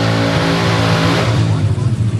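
A Plymouth Savoy drag race car on a test pass down the strip, a loud, close engine roar with layered rough harmonics that shift as it pulls away, under a commentator's voice.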